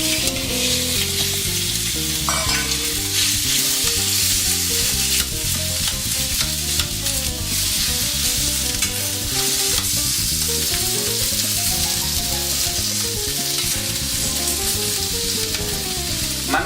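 Bife de chorizo beef steak sizzles in a very hot pan with olive oil, a loud, continuous frying hiss with crackles and spatter close up, while steady tonal background music plays underneath.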